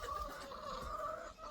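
Chickens cluck in a muddy outdoor chicken lot, a continuous overlapping chorus of close clucking from several birds.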